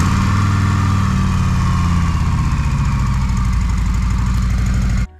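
A stock Harley-Davidson motorcycle engine idles loudly up close, a steady low throbbing rumble with even pulses, then cuts off abruptly at the very end.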